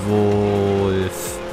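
Engines drone loud and steady as cars race in the Forza Horizon 2 video game, with a sustained roar and a rising pitch sweep before the sound drops away, ending with a brief whoosh.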